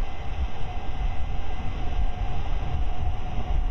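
A Bell 47 helicopter engine starter cranking in DCS World gives a steady, loud mechanical whir and rumble with a constant drone, unchanging for several seconds with no talk over it.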